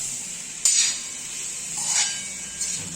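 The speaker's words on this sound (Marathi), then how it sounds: "आता भाजी व्यवस्थित आपण तव्यामध्ये मिक्स करून घेणार आहोत." Wild lot leafy greens being stirred in a griddle pan, with a few soft scraping clinks of a spatula against the metal over a faint steady sizzle. No talking.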